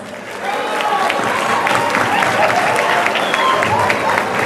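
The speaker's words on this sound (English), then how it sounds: "let's give another round of applause for our scholars" A graduation audience at a high school ceremony applauds steadily, a dense wash of clapping from a large crowd with scattered cheers, sustained at even loudness throughout.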